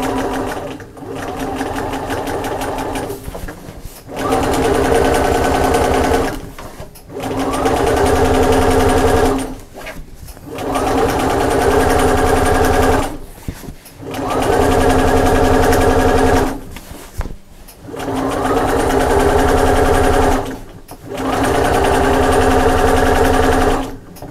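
Sewing machine stitching a quilted shopper bag, running in steady buzzing bursts of a few seconds each, broken by short pauses, loud and close throughout.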